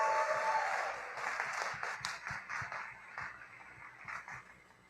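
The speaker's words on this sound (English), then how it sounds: "A big round of applause." An audience at a startup demo day applauds in a warm burst of clapping that starts full and gradually thins out into scattered individual claps.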